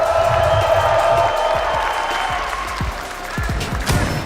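A large arena crowd at a Rainbow Six Siege esports major final claps and cheers continuously, a dense wash of applause with scattered whoops and shouts, loud and sustained throughout.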